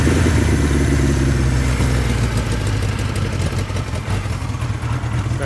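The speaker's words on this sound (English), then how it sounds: "Starts like butter. A little cold. Good running bike." A 1973 Kawasaki Z1 motorcycle engine, started cold with the choke on, runs at a loud, close, steady idle with a throbbing low rumble and slight unevenness throughout.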